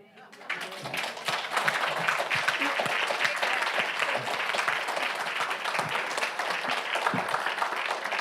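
A town hall audience on housing in St. Johns County breaks into applause, building quickly from quiet into steady, fairly distant clapping from many hands that continues for several seconds with some voices mixed in.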